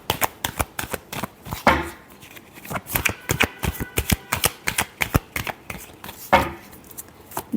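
Tarot cards shuffled by hand in a steady run of crisp riffling slaps, with two denser riffles near the start and end, close and fairly loud with no talk.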